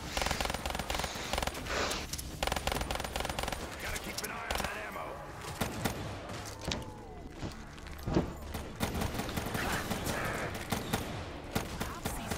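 A fireworks weapon firing in a zombies game, with continuous loud bursts of rapid shots, thuds and crackling impacts over several seconds and player chatter mixed in.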